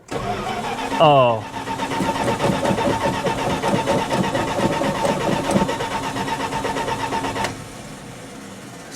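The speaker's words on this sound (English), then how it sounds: "We're going to find out if she cranks." A 1966 Plymouth Fury II engine cranks in a brief burst with a rising starter whine, then catches and settles into a steady idle that runs loud and close before dropping off; a voice briefly exclaims.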